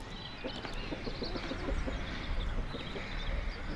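Hens cluck softly in a market garden, a scattered run of faint calls over steady outdoor background noise.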